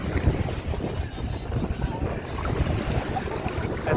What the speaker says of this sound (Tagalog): Mahina lang yung hangin.